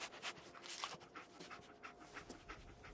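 Dogmeat, the dog from the Fallout video game, pants steadily in quick, breathy bursts, close and fairly quiet, with no voices over it.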